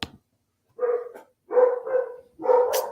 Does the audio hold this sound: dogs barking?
yes